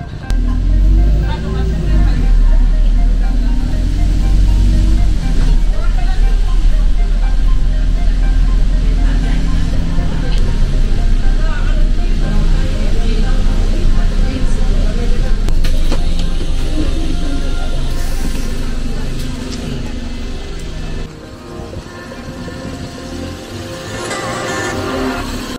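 A bus pulls up and then rides through traffic, its low engine rumble and road noise loud and steady throughout, easing somewhat near the end, with voices murmuring inside.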